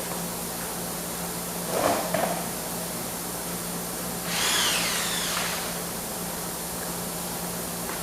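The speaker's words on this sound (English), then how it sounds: "Let me grab the wire wheel quick." A wire wheel spun by a power drill cleans a part from a blown-head-gasket 1968 engine, two short gritty bursts of brushing over a steady background hiss, fairly faint and close, with no talk.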